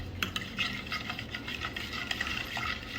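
Yogurt being beaten with sugar in a bowl, a quick continuous whisking and tapping against the sides in a steady rhythm, close and moderately loud, with no talking.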